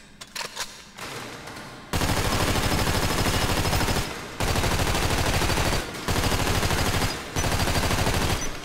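Sustained automatic gunfire at a shooting range in GTA 5 fills the scene in long, loud bursts separated by brief reload gaps, preceded by a few scattered single shots.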